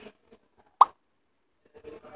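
A single short, soft Facebook Messenger send plop, a bubbly pop that stands alone in near silence with faint murmurs before and after.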